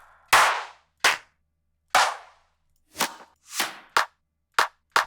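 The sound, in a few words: clap drum sample in FL Studio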